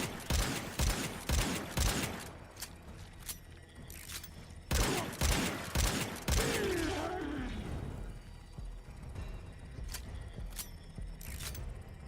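Shotgun blasts firing buckshot in a video game sound as loud booming reports in clusters, several quick shots together, then a pause, another volley, and scattered fainter bangs with some growling game effects.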